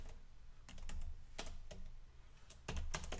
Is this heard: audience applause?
no